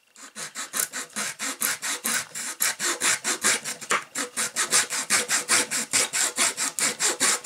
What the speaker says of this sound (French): Donc moi je vais me munir d'une petite scie à métaux.